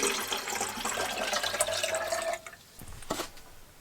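Water pours and splashes into a pot at a campsite, a steady close trickle that stops, followed by a few separate drips and clinks.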